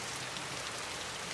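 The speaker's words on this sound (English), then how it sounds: "it's raining so hard the water or the puddles are splashing up" Heavy rain pours down steadily in the San Joaquin Valley, a dense, constant hiss of drops hitting the ground and splashing in puddles, loud and close with no voices.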